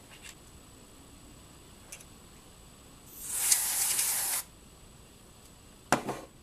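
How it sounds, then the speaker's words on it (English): Electronics cleaner aerosol sprayed onto the circuit board of a Super Nintendo controller, one loud sustained hiss of about a second in a quiet room, with faint clicks before and a short sharp spurt afterward. "Take your spray electronics cleaner and spray on there."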